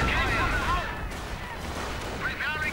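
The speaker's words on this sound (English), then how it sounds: "Rangers getting gunned down." Rapid bursts of gunfire and explosions from Company of Heroes battle action, with overlapping shots and pinging ricochets at steady density throughout, partly mixed with talk.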